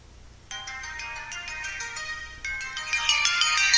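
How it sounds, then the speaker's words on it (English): A mobile phone ringtone plays at 3:20 in the morning, a bright melodic tone that starts abruptly and repeats in phrases, growing louder toward the end, with no voices. "And my phone is ringing."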